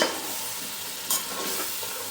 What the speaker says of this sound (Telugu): ఒక్కసారి గంటతో ఇలా కలుపుకోవాలి